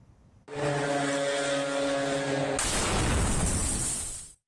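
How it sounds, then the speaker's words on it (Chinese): A Russian attack drone heading toward an apartment building in Kyiv gives a steady buzzing engine drone that swells into a loud rushing roar, then cuts off abruptly. "伴随着巨大的轰鸣声，一架俄罗斯无人机径直冲向基辅的一栋公寓大楼"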